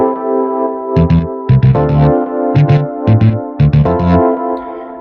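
A driven, overdriven bass guitar plays punchy, sparse rhythmic notes over sustained synth chords, the bass hits bouncing in short bursts under a steady bright pad, loud and close.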